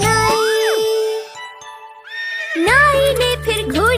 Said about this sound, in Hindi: घोड़ा दौड़ा टक पक ढूंढ के लाया